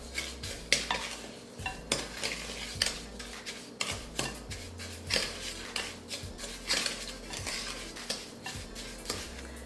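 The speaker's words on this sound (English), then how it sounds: "we're going to add our butter into the brown sugar. Just mix that up really" Butter being stirred into brown sugar for oatmeal cranberry walnut cookie dough, a utensil scraping and knocking against the bowl in a steady repeated rhythm, close and clear with no talking.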